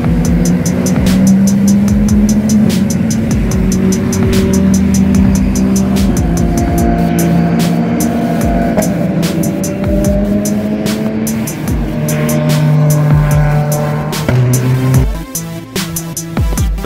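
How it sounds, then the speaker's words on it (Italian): V6 and V8 race car engines with straight exhausts and no silencers scream past at Spa-Francorchamps during a WEC six-hour race, loud and close, their pitch climbing and falling as several cars pass in turn. "quei V6, probabilmente c'erano anche dei V8, che essenzialmente erano senza alcun silenziatore, scarico diretto"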